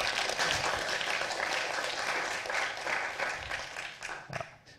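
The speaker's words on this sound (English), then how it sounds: "give Mark a round of applause" Fairly faint audience applause for Mark Somerville at a college reunion update: a steady wash of many hands clapping that thins out and tapers off toward the end.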